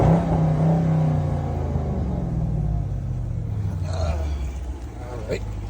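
A 2017 Dodge Charger R/T in sport mode on a test drive, its engine giving a steady close rumble that rises and revs slightly, with road noise under the cabin.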